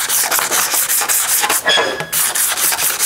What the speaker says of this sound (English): sand those highs